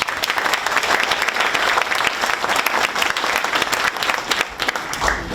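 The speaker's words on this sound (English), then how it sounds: "Let's give Mark a round of applause." Audience applause at a panel event with Vietnam War veterans and University of New Hampshire alumni, a dense, steady round of clapping that holds loud and even throughout, fading slightly at the end.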